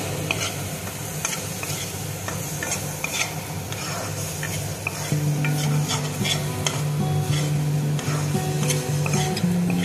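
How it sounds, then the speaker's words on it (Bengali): Cumin powder and spice paste are stirred in a sizzling pan for mushroom curry, a steady close hiss with repeated scraping strokes and a low hum joining midway. "দিয়ে আমি নাড়বো"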